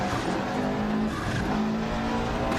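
A rally car in the Dirt Rally 2.0 game on a Monte Carlo stage, engine droning steadily as it takes a corner in second gear, tyres scrubbing and squealing over a continuous loud mechanical roar.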